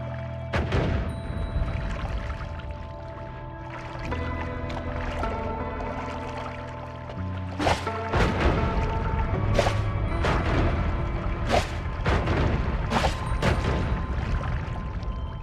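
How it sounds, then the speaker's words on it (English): A wand firing in the video game Noita: a run of sharp cracking bursts and impacts spaced irregularly over a dense, rumbling wash of in-game noise, loud and close. "Okay, let's try firing this wand now."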